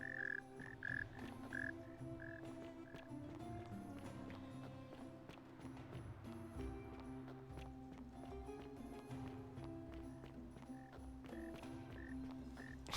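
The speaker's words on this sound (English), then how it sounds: "So the frogs have gathered around to make croaky noises, as it were." Frogs croak at dusk in the video game The Forgotten City, a steady chorus of repeated croaks and chirps layered over a dense ambient bed, moderately distant and continuous for the whole stretch.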